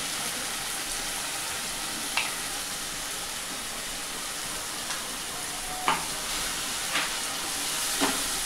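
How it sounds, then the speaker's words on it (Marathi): Tomato puree sizzles in hot oil in a pan, a steady loud hiss with a few sharper spits and stirring clatters scattered through, and no one speaking. "याला चांगलं तेल सुटेपर्यंत परतून घ्यायचं टॅमॅटो"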